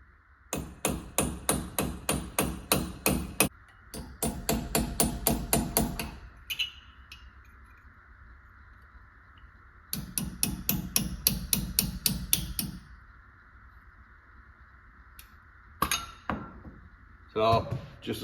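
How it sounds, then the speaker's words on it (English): A hammer drives a small chisel into the wheel bearing cap of a 2011 Chevy Silverado, sharp metallic strikes fired in rapid bursts of a dozen or so blows, separated by short pauses. "So just a small chisel and a hammer. Just kind of drive it down in between here and it'll start opening up."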